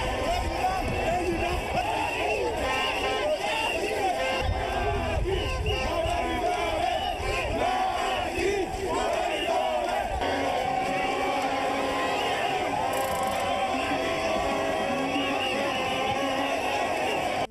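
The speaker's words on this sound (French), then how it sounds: "Une foule diversifiée où se côtoient anonymes et militants acquis à la cause du président Macky Sall." A large crowd gathers to welcome President Macky Sall, a dense, continuous roar of many voices with shouting and cheering throughout.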